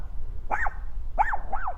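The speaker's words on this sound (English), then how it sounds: "This is the cutest barking I've ever heard." A small dog gives a few high, yappy barks with a rising-and-falling, almost alien tone, two close together near the end, heard outdoors over low background rumble.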